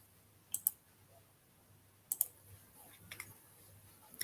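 Computer mouse clicks in a quiet room, a few sharp close taps grouped in pairs and small clusters, separated by stretches of near silence.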